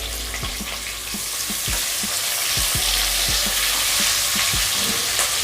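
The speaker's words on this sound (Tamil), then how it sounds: "வெங்காயம் நல்லா வதங்கி வரணும்." Sliced onions sizzle steadily while frying in a pan for mushroom biryani, a continuous loud crackling hiss with soft stirring knocks recurring throughout, no voices.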